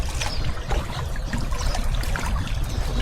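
A strong river current flows steadily beside a spot where a man is net fishing, making a loud, continuous rushing wash with no pauses.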